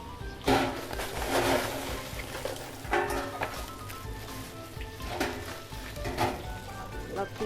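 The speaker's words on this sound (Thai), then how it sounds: "หม้อนี้จะผัดกุ้งนะ" Shrimp stir-fried in a pot gives a steady close sizzle, broken by several sharp clatters of a utensil against the pot while someone talks briefly.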